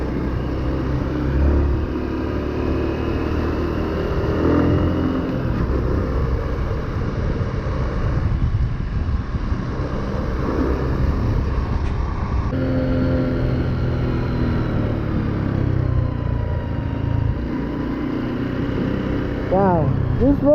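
A Honda Cross Cub 110 motorcycle speeds up along a slippery road, its small engine droning steadily under wind rumble and a rider's occasional talk.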